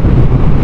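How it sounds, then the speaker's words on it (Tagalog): Strong wind buffeting the microphone near a windmill by a cruise ship at Boracay, a loud, dense low rumble that fills the short moment without any speech. "Ang lakas ng hangin!"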